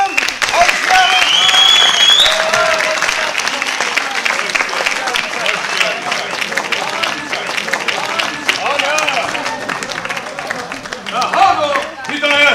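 Audience applauding at a Novruz holiday celebration, with dense, steady clapping and crowd noise throughout, mixed with background chatter.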